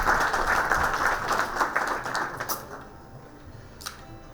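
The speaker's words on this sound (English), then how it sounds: "a huge round of applause for Dr. Tarun Sridhar." A room of people applauds at a committee launch event, with dense clapping that stays full for a couple of seconds and then thins out to a few scattered claps.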